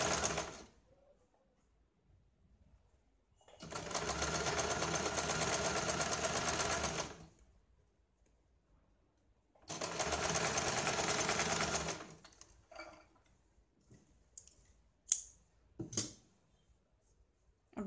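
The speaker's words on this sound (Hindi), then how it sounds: "यहाँ पे हम एक सीधी सिलाई लगाते हैं" A sewing machine runs a straight seam on a blouse in two sustained bursts of steady stitching, each a few seconds long, separated by quiet pauses, followed by a few faint clicks and handling sounds.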